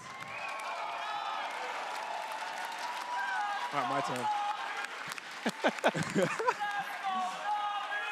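An esports arena crowd in Berlin cheers and claps, a broad wash of noise with rhythmic bursts toward the end, while a nearby voice speaks over it briefly.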